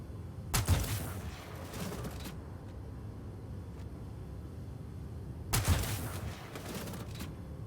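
AdsCav (Electron) sniper rifle firing in Star Citizen, Alpha 3.12.1: two loud, sharp shots about five seconds apart, each followed by a long, rumbling echo that trails off.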